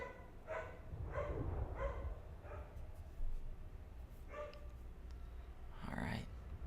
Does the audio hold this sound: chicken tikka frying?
no